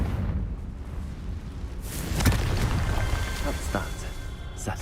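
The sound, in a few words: Confringo fire spell explosion in Hogwarts Legacy video game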